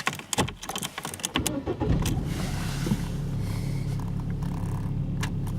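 A 2004 Vauxhall Astra engine is cranked with a few sharp clicks and then settles into a steady, close idle hum during an injector cutoff diagnostic test.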